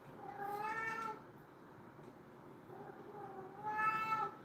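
Two drawn-out, harmonic meows from a house cat, fairly close, with a quieter plaintive mew between them and no talking.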